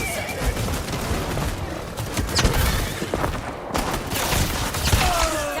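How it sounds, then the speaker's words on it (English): Rapid gunfire from a weapon in a shooter video game, a dense, continuous rattle of shots with a few louder impacts, close and steady throughout. "Oh my God, this gun fucking shreds."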